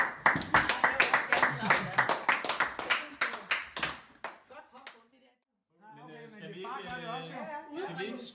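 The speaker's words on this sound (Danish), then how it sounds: "Klap for det." A small group at a 70th birthday party claps in a quick, rhythmic burst of individual claps that slows and stops, followed by a short pause and then people talking.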